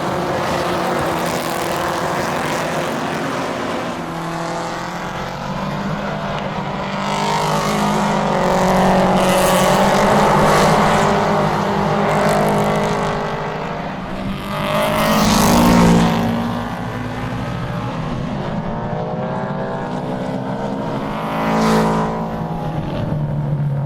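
Loud American Cup race cars roar past at speed, their engines blaring continuously for the whole span, with several swelling pass-bys as cars sweep close and fade.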